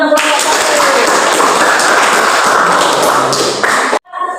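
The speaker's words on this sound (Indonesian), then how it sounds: "tepuk tangan untuk" A classroom audience claps for student presentation groups, a loud, dense burst of applause that carries on for about four seconds and then cuts off abruptly, with a brief voice after it.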